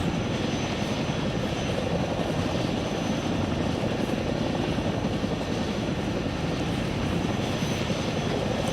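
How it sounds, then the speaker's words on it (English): Helicopter rotor and engine drone steadily and loudly throughout in the Arma III military game, a continuous close chopping roar with no break. "really loud that chopper"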